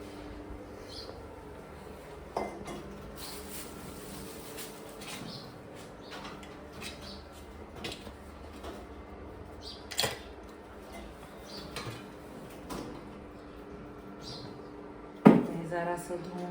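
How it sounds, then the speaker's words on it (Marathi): Dishes, pots and pans being washed in a home kitchen, scattered metallic clinks and knocks over a low background, with a louder clatter near the end and faint bird coos around. "आता सगळे भांडी पडलेली आहेत घासायच्या"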